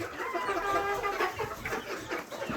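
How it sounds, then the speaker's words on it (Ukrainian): Young cockerels about sixty days old, among Redbro, Master and Spanish cross chickens, give hoarse, wavering crows up close with clucking mixed in. "У мене вони вже всі почали півники співати."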